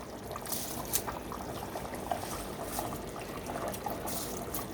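Soaked seeraga samba rice goes into a mutton biryani pot with a continuous wet trickling and pouring rush, close and even in level throughout, with no voices.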